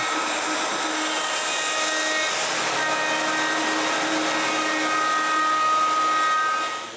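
Router or power sander rounding over the sharp corners of wooden clamp rack parts, a steady loud high-pitched whine held without a break throughout and trailing off at the very end.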